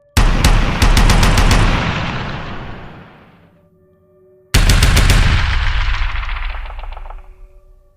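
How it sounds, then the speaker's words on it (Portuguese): Two loud, close bursts of machine gun fire serve as an audiobook sound effect. Each rapid rattle of shots fades into a long echoing tail, with a brief near-silence between them. "o silêncio foi quebrado por tiros de uma metralhadora vindo da direção de sua rota de fuga"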